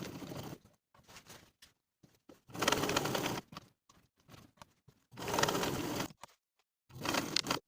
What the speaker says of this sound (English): Now I'll top stitch following my traced line.